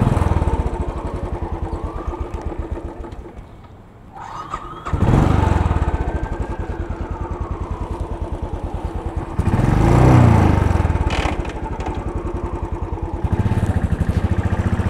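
A motorcycle, running without a working first gear, rumbles along U Street and Florida Avenue in Washington, DC, its engine loud and close with a steady thrumming idle, a dip, then revving surges as it pulls away through city traffic.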